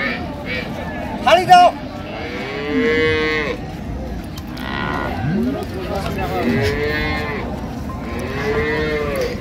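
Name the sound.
bull calf mooing at a cattle market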